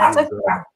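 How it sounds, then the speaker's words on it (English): A dog gives a short, close bark or yip lasting under a second, caught on a live talk stream's microphone. "I apologize for my dog"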